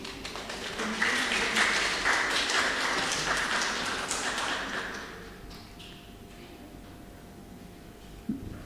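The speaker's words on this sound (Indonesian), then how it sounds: "Tepuk tangan kepada pengurus." Applause from a church congregation at a Sunday service, a broad patter of many hands filling the room for about five seconds before fading into quiet room tone with faint voices.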